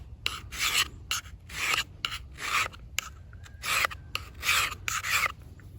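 A Mora Companion stainless knife spine is filed with steady, evenly spaced rasping passes, each a harsh scraping stroke with short pauses between, close and clear with no talk.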